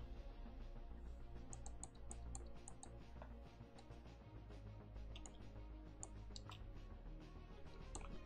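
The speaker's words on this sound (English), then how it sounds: "the new pen makes clicking noises when I touch it, even though it's not actually clicking" A drawing tablet pen makes small, faint clicks each time it touches the surface, irregular and light, over a low steady background hum.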